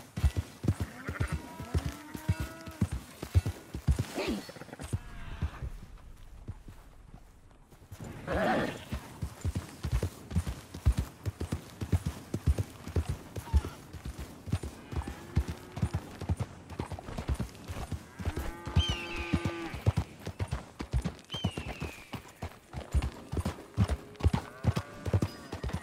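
Steady clip-clop of horse hooves walking throughout, with occasional neighs and snorts and soft voices in between, from the video game Red Dead Redemption 2; close and fairly loud.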